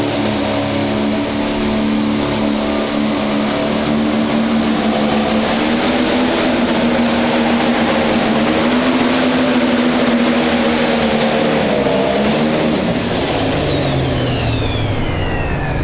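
Pro stock pulling tractor at the Scheid Diesel Extravaganza, a loud, continuous engine roar with a steady droning pitch that climbs and holds, joined by a high whistling whine that sweeps downward near the end.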